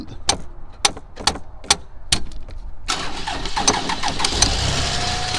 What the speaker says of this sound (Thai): อาจารย์สตาร์ทรถได้